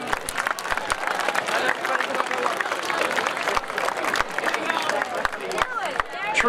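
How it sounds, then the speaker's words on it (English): A crowd at an outdoor community event applauds, steady clapping mixed with chatter and a few cheers, fairly loud and continuous, with voices talking over it. "So please give yourselves a round of applause."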